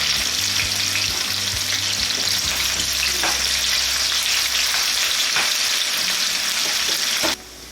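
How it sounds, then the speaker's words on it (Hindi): Sliced onions fry in hot oil for a Punjabi kadhi pakora, a loud, continuous close sizzle with occasional stirring scrapes that suddenly drops off near the end. "प्याज अब मैं ऑयल के अंदर ऐड कर रही हूँ।"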